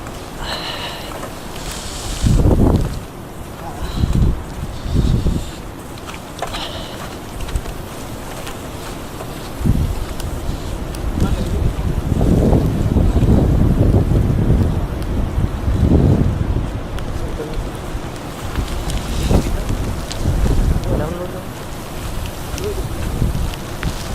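Strong blizzard wind during a 2014 snowstorm in Shizuoka, Japan, roaring and buffeting the microphone in uneven gusts that swell and fade throughout.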